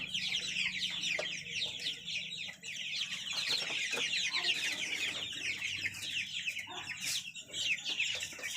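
Colour bird chickens, kept on the upper floor of a two-storey mud house, cluck in quick, busy bursts, fairly quiet and continuous, with a few sharper calls standing out.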